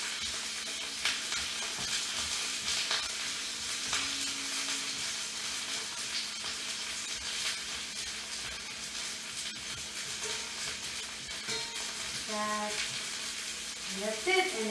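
French fries sizzle steadily in hot oil in a pan while household tongs arrange them, a dense, close frying hiss running throughout with a few faint clinks near the end.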